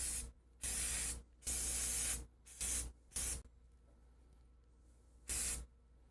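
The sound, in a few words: chalk spray paint being sprayed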